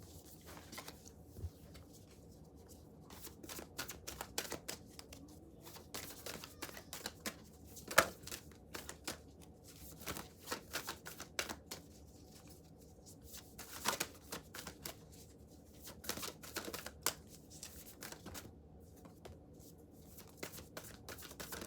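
Guidance cards are shuffled by hand during a reading, giving quiet, intermittent riffling and soft slaps in irregular bursts over a near-silent background.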